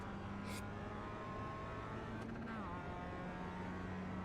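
A Mazda MX-5 Cup race car engine in the iRacing sim drones at a steady pitch, quiet and continuous, with a brief shift in tone partway through.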